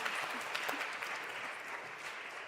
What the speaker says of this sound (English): Thank you for really big applause